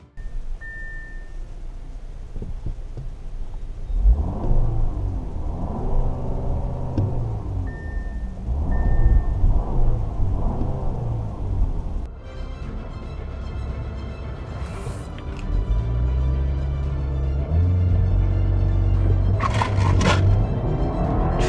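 A 2-liter turbo Audi Q5 SUV accelerates hard, its engine note rising loud and close and swelling through a shift, then pulling strongly again with a deep drone near the end.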